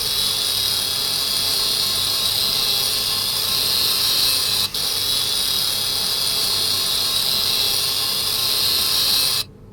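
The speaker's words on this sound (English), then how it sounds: "That's a little bit of a grinder on there." Steady, loud hissing whir of a grinder polisher scrubbing rust off a vehicle part in Offroad Mechanic Simulator, running continuously with one brief dropout midway before cutting off at the end.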